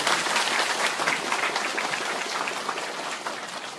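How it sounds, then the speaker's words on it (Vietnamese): A crowd of parishioners from Nghệ An and Hà Tĩnh applauds to welcome the Archbishop, a steady dense wash of many hands clapping close by that keeps going with no break and tapers only slightly toward the end. "Rồi chúng ta vỗ tay thật mạnh chào Đức Tổng"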